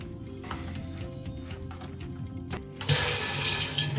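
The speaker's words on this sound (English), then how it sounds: "there's nothing wrong with the flow of water" Cold water rushes through the inlet of a Fisher & Paykel washing machine. A low, steady flow swells suddenly into a loud, broad hiss near the end.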